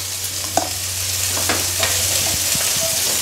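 Cabbage stir-fries with salt and turmeric in a pan, a continuous close sizzle broken by a few sharp scrapes of the spatula, over a steady low hum, with no talking.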